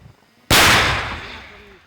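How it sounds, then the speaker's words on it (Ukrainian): A single loud tank cannon blast bursts out suddenly during firing practice, followed by a long rumbling decay that fades gradually. "Постріл."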